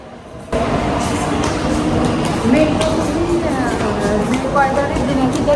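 A Qatar metro train closes its doors and pulls away from the platform with a steady rumble and a rising motor whine, voices talking nearby.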